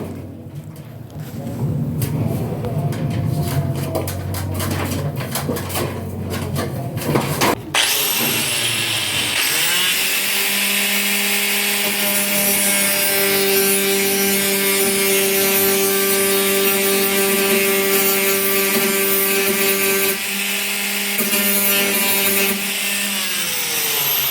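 Angle grinder cutting through an old, rusted corrugated metal roof sheet: a loud, steady, high-pitched whine with scraping grit, continuous and close, with no talking.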